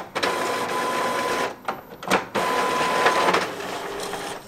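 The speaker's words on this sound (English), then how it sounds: "I think it's printing, guys." A printer running a DTF or sublimation transfer job, a steady mechanical whirr and rattle of the print head passing back and forth, broken by two short pauses, close and fairly loud with no talking.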